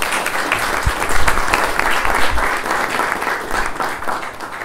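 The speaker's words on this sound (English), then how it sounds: "nice round of applause for our host" Applause from a dinner crowd at an Iftar event honoring host Governor Jack Markel, a dense steady clapping that fills the room, with a few louder claps standing out near the start.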